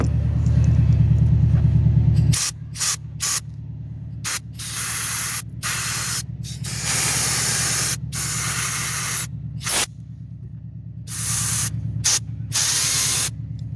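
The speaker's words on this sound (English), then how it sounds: "I'm gonna spray air" Loud hissing bursts of compressed air spray in repeated blasts onto the windshield of a 2003 Honda Accord to trace a water leak, stopping and starting, over a low engine-like rumble.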